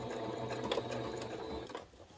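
A sewing machine stitches steadily around the edge of a fabric notions tray, a quiet continuous whirr that stays even and slows slightly near the end.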